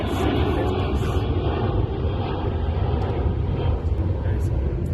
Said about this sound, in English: There's a very big loud plane